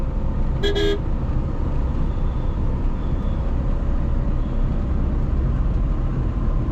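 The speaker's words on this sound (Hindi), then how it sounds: "आज बहुत दिनों बाद इसमें चौथा गियर डाला है मैंने।" A Tata Nano drives in fourth gear on an empty, wide, smooth road at night, giving a steady loud engine and road rumble throughout, with a short double horn toot near the start.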